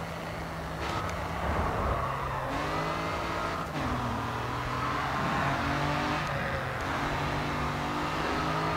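Subaru BRZ / Scion FR-S engine in the racing game GRID 2, a continuous aggressive revving drone with rising and falling pitch through gear changes, loud and steady throughout.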